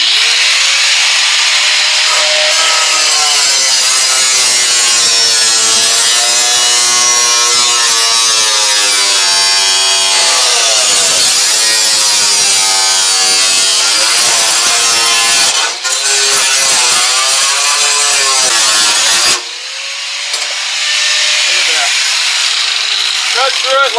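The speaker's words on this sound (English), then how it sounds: "It's called a Graff metal cutting wheel." A Graff diamond-edged metal cutting wheel on a power tool slices through metal, giving a loud, continuous high-pitched grinding whine that shifts in pitch and dips briefly near the end.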